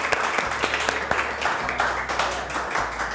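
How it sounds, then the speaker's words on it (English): Students in a 9th-grade class clap together in a short burst of fairly quiet, scattered claps, with a few distinct sharp hits over a low background hum. "Clap for you guys"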